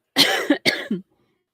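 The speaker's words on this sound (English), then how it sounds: "people will hear me coughing a little bit throughout the show" Two quick, harsh coughs in a row, close and clear, followed by silence.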